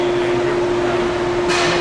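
An industrial dryer's fan motor runs with a loud, constant mechanical hum and a steady tonal drone nonstop, with a brief hiss rising near the end.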